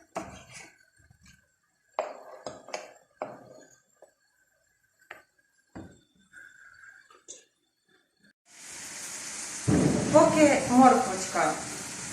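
After scattered clinks and quiet kitchen handling, meat and vegetables hit a hot pan and start sizzling loudly and steadily while someone talks over it.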